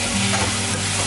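Semal flower vegetable cooks in spices in a pan, a dense continuous sizzle with a soft stirring scrape, close and steady throughout the short moment, no talk.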